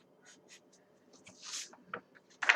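A pencil sketching a figure on paper, giving faint, short scratchy strokes in irregular bursts, quiet and close, with a louder stroke near the end.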